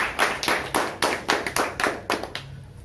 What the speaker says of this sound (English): Let's keep the big round of applause going